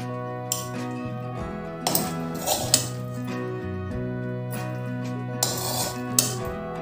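Soft-cooked mixed vegetable curry of 21 vegetables, made as a Ganpati offering, being scooped from a pot into a bowl: scattered metallic clinks and scrapes of a spoon against metal over steady background music.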